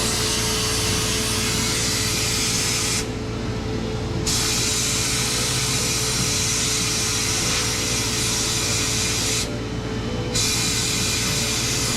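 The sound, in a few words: Harbor Freight blasting cabinet with vacuum running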